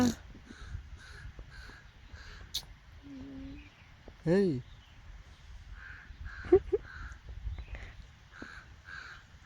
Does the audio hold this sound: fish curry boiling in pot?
no